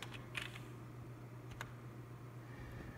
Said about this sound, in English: the next thing that we are going to type in is